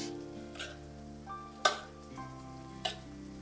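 Boiled chickpeas being mashed in a pot for chole curry, with a few soft scrapes and sharp knocks from the utensil spread out over a steady humming background.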